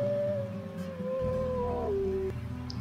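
A wolf howl in the WolfQuest video game rises as one long, sustained tone over a steady game ambience and music bed, then dips and holds lower before cutting off near the end.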